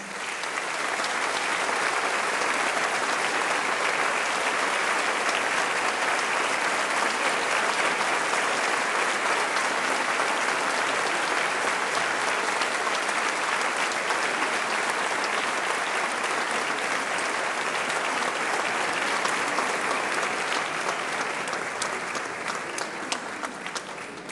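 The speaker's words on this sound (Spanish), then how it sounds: "quiero pedir un fuerte aplauso para el doctor Facundo Manes" Sustained loud applause from a large crowd in Buenos Aires welcoming neuroscientist Facundo Manes, steady clapping that continues without pause for over twenty seconds.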